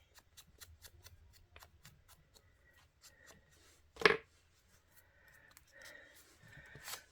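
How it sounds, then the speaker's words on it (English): Scissors score a line across thick card in a craft project, a series of faint dry scratches and ticks with one louder scrape partway through, close and quiet. "And I'm just going to score it with my scissors. It's quite thick card."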